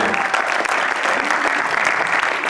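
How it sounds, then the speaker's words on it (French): Audience applause at the 2019 ESSEC eloquence contest final, a dense, steady wash of many hands clapping close and loud, continuous throughout without a break. "On peut les applaudir"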